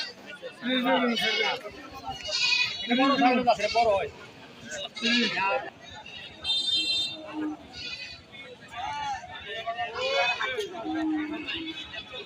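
Goats bleating amid a busy crowd at a livestock market in Tangail, with repeated bleats rising over constant people talking nearby throughout.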